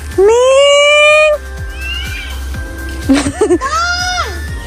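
A pet cat meows loudly and close by: one long, rising meow, then after a pause a second drawn-out meow, with people's voices calling in between.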